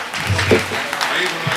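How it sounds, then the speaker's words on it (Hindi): Brief, thin applause from an audience at a poetry recital, with a few scattered claps, mixed with crowd murmur and voices. "भाई तालियां कमज़ोर थी"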